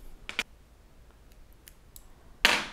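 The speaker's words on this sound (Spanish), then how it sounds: "cortamos la lana y luego la hebra que hemos cortado la pasamos por el centro del punto" Scissors snip through knitting wool yarn, a couple of quick close clicks at the start and a sharper, louder cut near the end, with faint small handling taps between in a quiet room.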